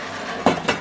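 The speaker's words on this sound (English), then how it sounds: "Slam the lid on" A lid slammed onto a cooking pot holding a wine-and-salt fish dish for surf and turf, giving two quick, close metallic clanks in a row.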